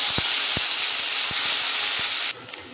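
Kharkol leaf paste hitting hot oil tempered with nigella seeds in a kadai, a loud, steady broadband sizzle with a few soft pops that cuts off abruptly near the end, leaving a quiet tail.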